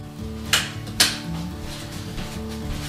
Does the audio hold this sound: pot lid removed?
yes